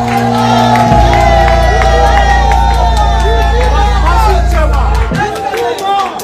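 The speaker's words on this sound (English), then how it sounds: "give me a hand of applause" Crowd at a live stage show in Birmingham, UK cheers and whoops over dense babble, loud and continuous, while a strong sustained low hum from the venue sound system runs through most of it.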